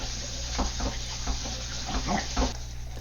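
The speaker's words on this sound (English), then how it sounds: "I'm going to wash the wok and get it ready for the veggies" Tap water runs steadily into a wok being washed in a home kitchen sink, a continuous close splashing hiss with small bursts as the pan is rinsed.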